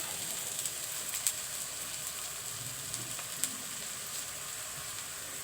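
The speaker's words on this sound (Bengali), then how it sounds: "আদা রসুন বাটা একটু ভেজে নিতে হয়" Ginger-garlic paste fries in oil with a faint, steady sizzle and occasional soft pops, quiet and continuous throughout.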